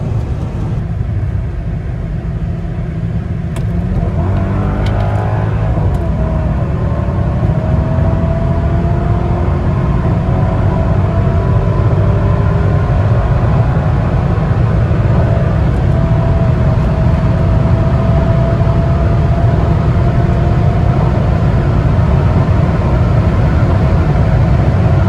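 A Mercedes E55 AMG accelerates hard on a pull in hot weather, its engine a loud, sustained rumbling drone with rising tone, heard from inside the car with steady road roar throughout.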